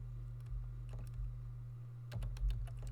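Fingers type code into a computer keyboard, close and quiet, in short bursts of rapid key clicks with pauses, over a steady low electrical hum.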